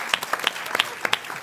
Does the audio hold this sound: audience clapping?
yes